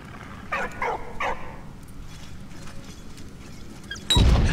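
A dog in the video game Valiant Hearts gives a few short barks or yips early on, followed by a sudden loud in-game burst at the end.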